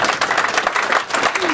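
Applause at a cooperative society's annual general meeting: a crowd claps steadily and fairly loudly for a short burst, with a faint voice in the background.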